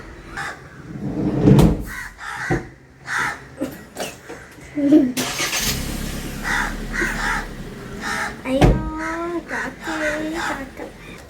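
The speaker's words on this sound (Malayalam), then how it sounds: "ഈ കാക്കേൻ്റെ സൗണ്ട് ഒരു ഡിസ്റ്റർബൻസ് ആവുന്നുണ്ടെന്ന് എനിക്കറിയാം." Several crows caw repeatedly nearby in harsh, separate bursts, with a few knocking sounds and faint talk in between.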